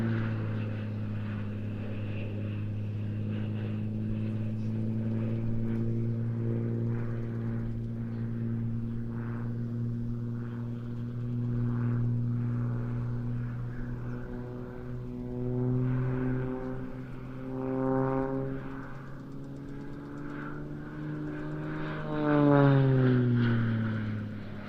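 An Extra aerobatic propeller monoplane flying at an airshow in Leszno, its engine droning loudly and shifting pitch as it climbs, dives and passes, with a rising-falling whine near the end.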